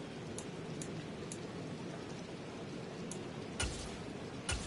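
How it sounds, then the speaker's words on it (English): Steady rain hissing over a video game American football match, a soft, even wash of noise with a few faint ticks and two brief thumps near the end, no voices. "The rain set to continue as we are underway in the second half"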